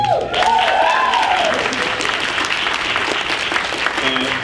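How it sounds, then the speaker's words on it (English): At an environmental justice symposium, an audience gives a sustained, fairly loud round of applause for an organizer, dense clapping running throughout with a voice rising briefly over it at the start. "I ask for a special round of applause for Evelyn"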